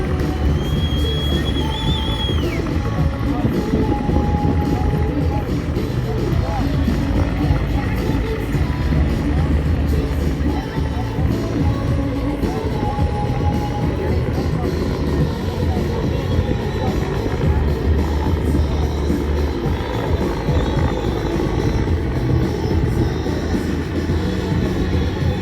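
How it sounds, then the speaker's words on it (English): A Royal Canadian Air Force Griffon search and rescue helicopter produces a loud, steady, broadband roar that continues unbroken throughout, heavy in the low end. "demonstrating the search and rescue capabilities of your Royal Canadian Air Force Griffon helicopter"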